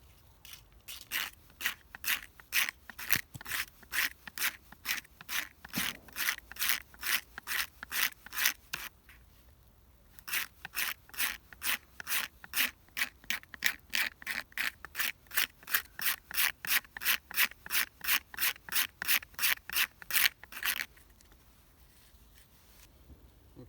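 An Opinel knife scrapes a piece of wood into fine powder for fire lighting, in quick, steady rasping strokes that run in two long bursts separated by a short pause, close and fairly loud, with no talking.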